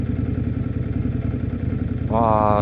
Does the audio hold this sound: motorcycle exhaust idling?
yes